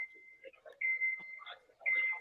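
Electronic reversing beeps from trucks sound in the background at a stadium after a championship football game, shrill steady tones that come and go while people talk over them.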